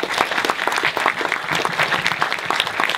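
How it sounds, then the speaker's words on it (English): Dense, sustained audience applause at a horror film festival awards ceremony in Hollywood, a loud crowd clapping steadily with no speech on top. "you guys all deserve a big round of applause for yourselves."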